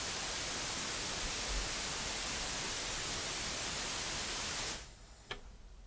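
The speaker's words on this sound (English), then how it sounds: "It's white noise." White noise sample for a lo-fi beat, a steady broadband hiss that stays loud and even for about five seconds, then fades out, followed by a brief click in near silence.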